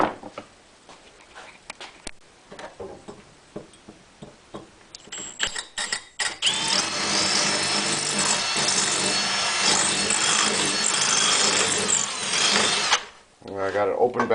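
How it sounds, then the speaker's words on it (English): A few clicks and handling noises, then a drill with a small bit whirs steadily for several seconds before spinning down, followed by more light clatter. "maybe I'll try to start that off with a smaller drill bit"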